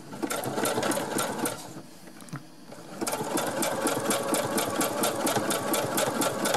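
A sewing machine runs a zigzag stitch on stretchy cotton fabric, a steady loud rapid clatter that slows briefly partway through, then resumes at full speed with no talking.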